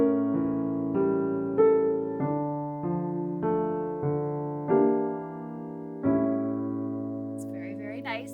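A piano plays a slow four-bar phrase in sustained chords that change about every half second to second, close and clear, and the last chord rings out as a brief voice comes in at the end.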